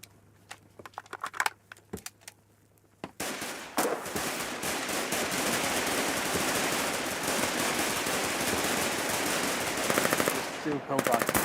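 Submachine gun fire in the video game Foxhole: sparse single shots and short bursts at first, then sustained rapid automatic fire rattling loudly for several seconds with a voice faintly underneath.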